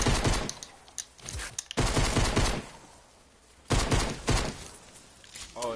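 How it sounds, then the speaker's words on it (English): Shotgun blasts in a Fortnite Outbreak match, a few loud, widely spaced booms with a pause between bursts, mixed with a player talking over the action. "Pump shotgun."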